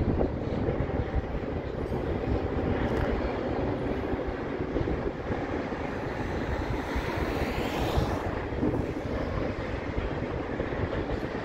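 A steady, rumbling roar of a long Union Pacific freight train with two engines on the front and two on the back rolling past nearby near Cajon, continuous wheel clatter and rushing noise without pause.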